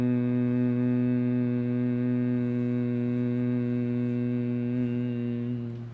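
A single person performs Bhramari pranayama breathing, voicing a steady, low, buzzing hum like a bee, imitating the insect's drone, held continuously for several seconds before fading at the end.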